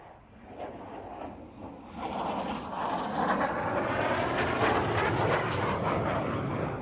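Saab Viggen AJS-37 jet flying at an RAF Waddington airshow, a broad roaring engine rush that swells and grows louder as it approaches, steady and prominent with no talk.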